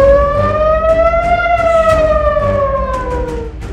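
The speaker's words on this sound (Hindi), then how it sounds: "क्या तेहरान में युद्ध का सायरन बजने वाला है?" A loud, steady war siren wails close by, its tone rising slowly and then falling over a few seconds with a rough rumble underneath.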